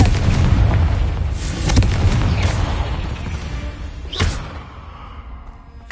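A Confringo fire-blast spell bursts in Hogwarts Legacy, a heavy booming explosion up front followed by further sharp blasts and crackling impacts that fade toward the end, with no speech.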